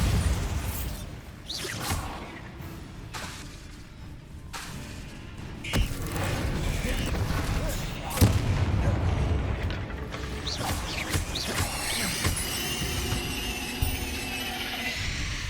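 A Bombarda explosion spell cast in the video game Hogwarts Legacy during a fight with a giant spider: whooshes and blasts with booming bursts and debris over continuous game music and effects, dense and fairly loud throughout.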